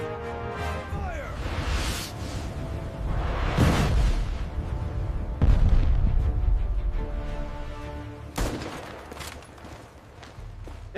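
Simulated 120mm tank cannon blasts in a war simulation boom with heavy low-end impacts, several spaced shots and whooshes over a rumbling battle background, loud and close.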